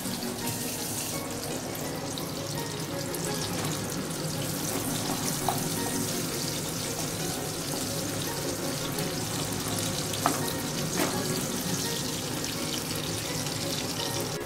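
A pot of water heating toward a boil in a home kitchen gives off a steady rushing, bubbling hiss with a few faint clinks and no talk.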